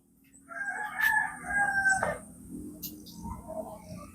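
Rooster crowing on a farm, a loud drawn-out call followed by clucking from chickens nearby, with no talk over it.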